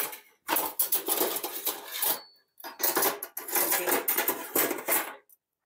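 A metal whisk rattles and scrapes against other kitchen utensils, two long bursts of jangling metal clatter separated by a short pause, close and fairly loud.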